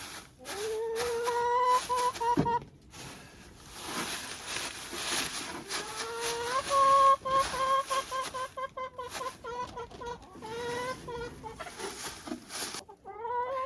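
Chickens cluck and squawk steadily and close by inside a greenhouse coop in Alaska, with harmonic calls rising and falling over nearly fourteen seconds and a few louder bursts.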